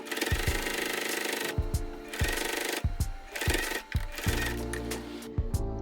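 A sewing machine runs close and loud while sewing the sides and bottom of a ruffle tote bag, its needle thumping in a rapid mechanical rhythm broken by short stops and restarts.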